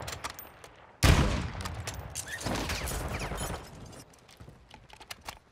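Gunfire in the DMZ video game: a sharp loud burst followed by a rapid string of shots, then scattered fainter pops, with no talk over it.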